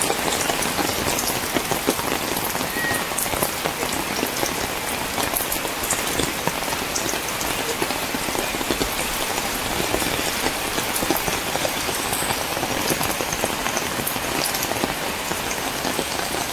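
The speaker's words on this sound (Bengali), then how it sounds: "প্রচুর হারে বৃষ্টি হচ্ছে।" Heavy rain pours steadily in a rural field area lined with date palms, a dense continuous hiss of drops striking surfaces throughout, loud and close with no voices.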